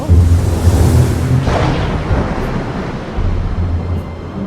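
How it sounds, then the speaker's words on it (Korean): Storm wind and big waves sound effect for a Sea of Galilee boat scene, a loud continuous roar of wind and surging surf with heavy low rumble throughout. "그런데 그때 갑자기 바람이 불고 큰 파도가 일렁이기 시작했어요."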